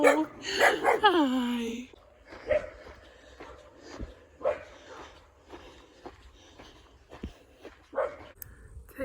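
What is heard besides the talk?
dogs barking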